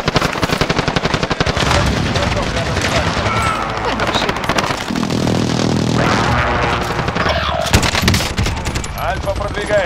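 Heavy, nearly unbroken automatic gunfire and blasts from Call of Duty: Warzone in a Payload match in Downtown, loud and close throughout, with radio voices calling out over the shooting.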